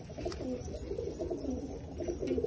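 Low, rolling coos from several pigeons drinking water blend together close by in a steady, soft murmur with no talking.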